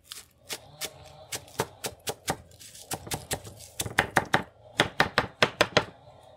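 A knife chops bell pepper on a cutting board, with a quick run of sharp, close knocks and short pauses between bursts. The cutting is for a vegetarian pizza.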